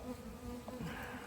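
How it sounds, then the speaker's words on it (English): Angry guard honeybee buzzing steadily at an open hive during an inspection, close and continuous with a sustained droning hum over faint background noise, no voices. "There's an angry guard bee buzzing there."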